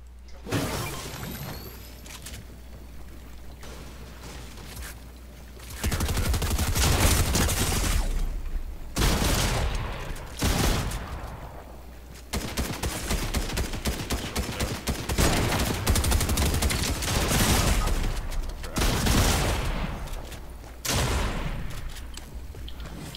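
Rapid gunfire from a Fortnite match, with repeated loud bursts of automatic shots and sharp blasts spread across the clip and short quieter gaps between volleys.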